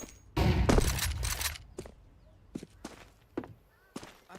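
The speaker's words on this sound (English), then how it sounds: "Throwing flashbang." A flashbang grenade in Counter-Strike goes off in a loud burst with clattering noise, followed by several sharp, separate thumps and footstep-like knocks spaced out afterward.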